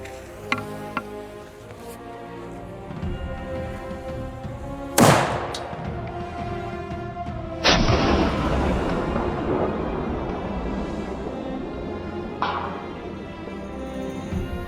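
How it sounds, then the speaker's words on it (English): Hand cannon loaded with four .45 caliber balls firing outdoors: one sharp, loud blast followed by a long rumbling echo, with a few smaller pops and knocks before and after, no speech. "we're gonna take a shot now with the 4 45 caliber balls"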